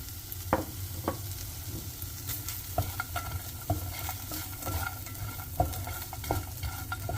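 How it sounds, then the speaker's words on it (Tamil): Paneer cubes are stirred into a sizzling filling in a pan, with a low frying hiss broken by regular spatula clacks and scrapes against the metal, close and unaccompanied by speech. "இப்போ இதில் நம்ம கட் பண்ணி வச்சுருக்கிற அந்த பன்னீர் க்யூப்ஸையும் சேர்த்து ஒரு வாட்டி மிக்ஸ் பண்ணிக்கலாம்"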